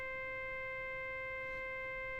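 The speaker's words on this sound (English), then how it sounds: "That's an example of a thing called self-oscillation, where the filter itself actually starts generating its own sine tone at the cutoff frequency." Synthesizer filter self-oscillating on an Arturia Jupiter-8V, producing a steady high-pitched sine tone with some harmonics, held continuously and faint over a quiet noise floor.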